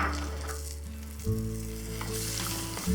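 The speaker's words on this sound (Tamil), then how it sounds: "இப்போ இந்த வெங்காயத்தை வந்து நல்லா வதக்கிக்கலாம்." Small shallots fry in hot oil for a Chettinad fish curry, making a loud, continuous close sizzle with occasional stirring scrapes and no talking.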